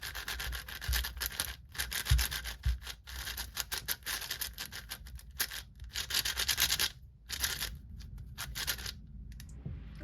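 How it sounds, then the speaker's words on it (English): Close-up rapid plastic clicking and scraping as the layers of a YJ MGC 6x6 speed cube are twisted in quick bursts, with brief pauses between turns. "that's the turning sound of the MGC 6x6"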